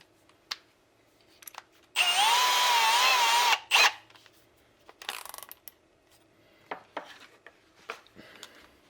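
A power drill fitted with a 7/32 drill bit bores holes in a KTM motorcycle fender, running steadily for about two seconds and then a brief second burst, loud and close, followed by scattered light clicks and handling noises.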